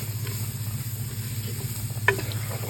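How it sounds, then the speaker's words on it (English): Soft sizzling of corn cooking in a roux for corn chowder, under a low steady hum, with a brief scrape of stirring near the end. No voices. "Sizzling up, cooking inside of the roux."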